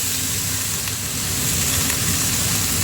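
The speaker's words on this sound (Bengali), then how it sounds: "দিয়ে দিলাম শুকনো লঙ্কা একটু নেড়ে চেড়ে লঙ্কাগুলোকে ভাজা ভাজা করে নিচ্ছি" Dried red chilies fry in hot oil while being stirred, a loud, close, continuous sizzle and spatter with a low rumbling undertone and no voices.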